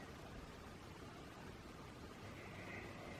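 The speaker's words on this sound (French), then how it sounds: "ce que vous entendez c'est la machine à pain hein" Steady, low whirring mechanical hum from a bread machine with a broad noisy hiss, constant and fairly quiet throughout, no talking.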